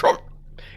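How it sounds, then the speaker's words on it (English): A single short hiccup, close and soft, followed by a faint breathy sound. "I think the hiccups might be gone."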